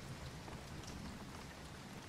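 Steady rain falling in a dark outdoor film scene, a dense even hiss of drops with no pauses, moderately faint and heard alone.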